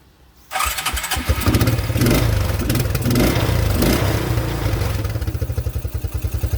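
A 1987 Suzuki Quadrunner 250 ATV engine cranks and catches, running loud and rough with a brief rev, then sputters into uneven pulsing as it fails to keep running.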